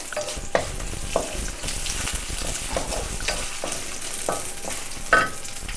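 Turmeric, salt and sugar are stirred together in a pan for a homemade avalakki (beaten rice) snack, with a continuous loud sizzle and rhythmic spoon scraping, clear and close with no voices.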